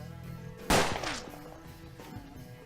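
A single loud gunshot in the turn-based western game Hard West, one sharp crack followed by a short ringing tail against a quiet backdrop.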